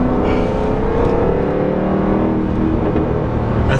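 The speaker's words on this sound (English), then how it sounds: "That's how you get it to do the pops. You just feather the throttle." A Jaguar F-Type R AWD drives with the throttle feathered, giving a loud, steady engine drone and exhaust rumble from inside the car with slight rises in pitch. No distinct pops stand out.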